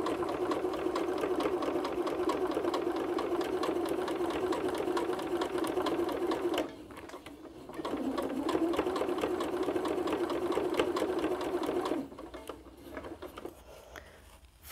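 A sewing machine stitches a quilt seam, a steady fast whirring run that pauses briefly partway through, resumes, then stops near the end, close and moderately loud.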